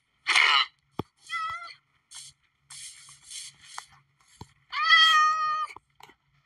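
A Minecraft cat mews several times in short, clear calls, a few plaintive drawn-out meows scattered across the stretch with small clicks between them, nearby and alone with no talking.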